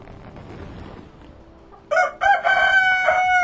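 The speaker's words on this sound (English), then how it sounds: "There's Mr. Rooster. He does a lot of crowing." A rooster crows loudly and close by, a sharp harmonic call rising out of a quiet snowy winter farmyard with hens about, following a stretch of soft background noise.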